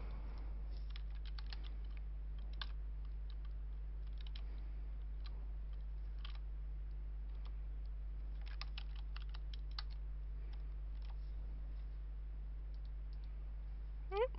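Keys clatter on a computer keyboard in quick irregular clusters of light clicks, fairly faint over a steady low electrical hum, with no voices.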